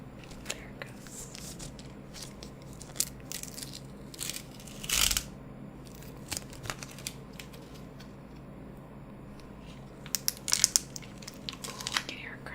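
Adhesive tape is pulled and peeled close up, giving scattered crackling and crinkling bursts, with a louder tearing rip in the middle and more crackles near the end, amid quiet handling noise.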